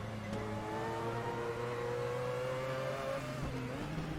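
A Mazda 787B race car engine in a racing video game holds a loud, steady high-pitched drone that rises in pitch as it accelerates, then drops briefly near the end as it shifts.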